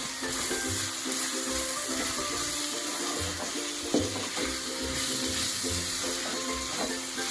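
Chili powder being stirred into an egg and dry fish curry in a hot pan gives a steady sizzle, with scraping stirs and a sharper knock near the middle, close and fairly loud with no one talking.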